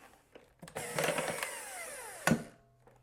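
An electric mixer beats coffee cake batter with eggs and vanilla in a bowl; a steady motor whir starts up, then winds down with a falling pitch, ending in a short clack.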